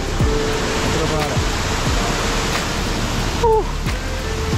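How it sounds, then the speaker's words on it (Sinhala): Heavy rain pours steadily on a mountain pilgrimage path in the off-season, a dense, constant hiss that carries on throughout with occasional faint voices and brief tones. "තදයි වැස්ස සැරයි මේ පාර යන අතුර පාර"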